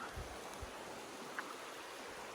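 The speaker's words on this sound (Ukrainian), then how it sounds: "А ось притоки озера, які живлять озеро водою і спадають в озеро." Small streams spill down into Biograd lake in Montenegro, making a soft continuous rushing wash. It is faint and distant, with a couple of low thuds near the start.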